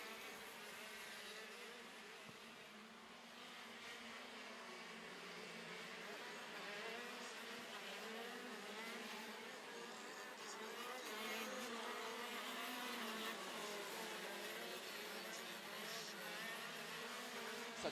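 High-pitched two-stroke KZ racing kart engines buzz past continuously on a wet circuit during a European Championship final, a dense droning whine that swells and holds without letup.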